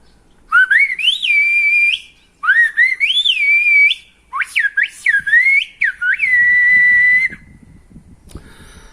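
A whistled phrase in Silbo Gomero, the whistled language of La Gomera, sung by a single whistler as four loud, sliding melodic bursts separated by short pauses, with faint room noise at the end.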